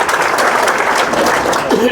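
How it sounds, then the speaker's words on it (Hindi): Applause from a village gathering greeting a young speaker, a dense, steady wash of clapping at close range with voices mixed in underneath. "जोरदार तालियों से स्वागत कीजिएगा इस नौजवान का"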